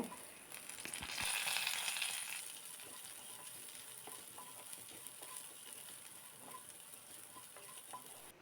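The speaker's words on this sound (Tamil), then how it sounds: "அதோடு நம்ம எடுத்து வச்சிருந்த சின்ன வெங்காயத்தையும் போட்டு நல்லா வதக்கிக்கோங்க" Small onions and curry leaves sautéing in hot oil for a South Indian urundai kuzhambu, a steady close sizzle that swells early on, with scattered light taps of stirring and no talk.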